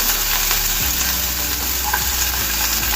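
Finely chopped onions frying in about a tablespoon of hot oil in a pan for crispy corn, a steady broadband sizzle with a low hum underneath and a few soft stirring knocks.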